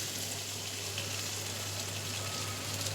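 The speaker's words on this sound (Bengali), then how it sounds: "জিরে তেজপাতা ফোড়ন দিয়ে আলুটাকে আগে একটুখানি ভাজা ভাজা করে নেব।" Boiled potatoes frying in hot oil tempered with cumin seeds and bay leaf, a soft, steady crackling sizzle that stays even and close throughout with no voices.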